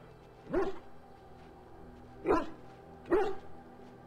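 A dog in Dragon Age: Origins gives three short, separate barks at irregular intervals, close and clear against a quiet background.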